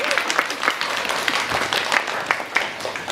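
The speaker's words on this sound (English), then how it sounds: "You may applaud." Theatre audience applauding during a student stage production of the comedy 'The Frogs', a steady wash of many hands clapping throughout, fairly close and sustained.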